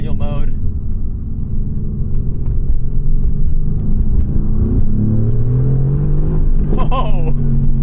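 A 2018 Mercedes-AMG GT R with a 577-horsepower engine pulls hard from inside the cabin, its deep engine note climbing through the gears under loud excited talk.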